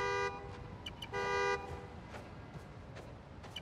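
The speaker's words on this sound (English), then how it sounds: "Now I can use the fob right to find the car. It's this. It's beeping." Two short horn-like honks come from a car located with its key fob in the Spider-Man: Miles Morales video game, followed by faint distant clicks over low city ambience.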